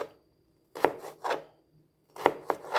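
Knife chopping hot peppers on a cutting board, two quick bursts of close, crisp knocks, a few rapid strikes each, separated by a short pause.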